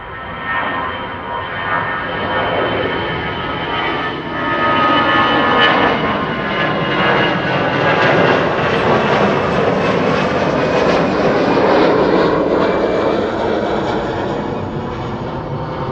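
A jet airliner departs Amsterdam Schiphol Airport, its engines building into a loud, steady roar that swells and holds for the whole stretch, heard from near the runway.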